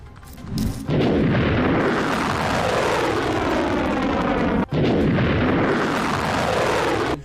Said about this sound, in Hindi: मिसाइल को हवा में ही मार गिराने के बाद सायरन और धमाके की आवाज सुनी गई